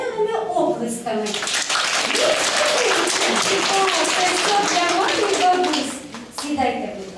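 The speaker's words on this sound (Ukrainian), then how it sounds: "Тож давайте привітаємо їх веселими оплесками." Applause and clapping from an audience of mothers, grandmothers and children at a kindergarten celebration, a dense steady patter of hands filling several seconds between spoken bits, with children's voices and talk around it.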